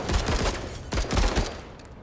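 Gunfire in the tactical video game MENACE: dense, overlapping bursts of rapid shots, loud and close, rattling continuously with no pauses for talk.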